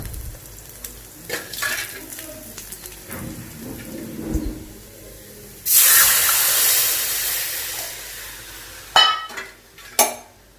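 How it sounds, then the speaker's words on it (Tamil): Tamarind water mixed with chili powder poured into a pan for a tomato-free kuzhambu, a loud sizzling hiss bursting up midway and fading into scattered utensil clatter and stirring scrapes. "அந்த புளி தண்ணியோட மிளகாய் தூள் எல்லாம் சேர்த்து அதை இதுல சேர்த்தலாம்"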